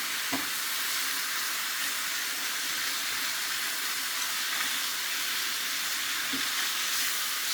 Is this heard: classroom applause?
no